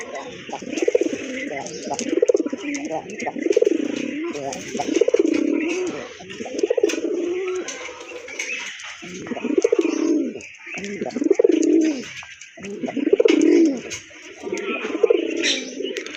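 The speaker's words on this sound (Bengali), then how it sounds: "তো আরেক জোড়া রাজগোল্লা কবুতর" Pigeons at a pigeon farm cooing close by in a steady run of repeated soft, throaty coos that swell and fade in regular cycles.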